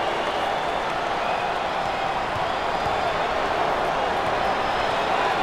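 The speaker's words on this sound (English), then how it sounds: "Full house and a packed crowd, and they are into it tonight." A packed home crowd at a Big Ten Tournament basketball game, Minnesota versus Purdue, roars and applauds in a steady, dense wall of cheering and clapping that holds loud throughout.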